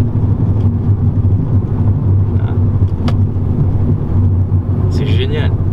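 Renault Megane 4 RS under launch control acceleration, a deep, loud engine drone that stays steady and close throughout, with a voice talking over it and a brief higher-pitched whine near the end.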